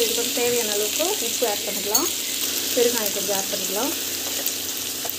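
Onions sauté in a hot pan with a steady sizzling hiss, heard beneath someone talking throughout.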